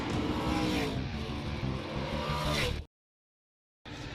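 Stock cars race at Jennerstown Speedway in front of a packed crowd, with loud engines roaring past for about three seconds before an abrupt cut to silence and then the racket returning.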